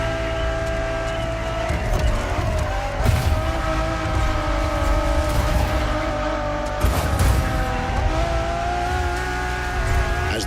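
A Ferrari Enzo V12 roars at high revs in The Crew Motorfest, loud and sustained, with rising tones that break at each gear change and a brief tire squeal.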